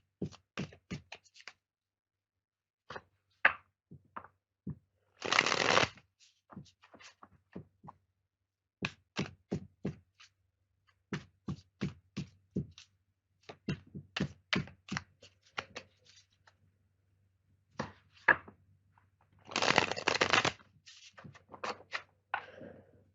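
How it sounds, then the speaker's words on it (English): Cards handled and shuffled in irregular bursts of crisp taps and flicks, with a couple of longer riffling rushes; no talking. "Give me a moment here while I shuffle the cards, Laura."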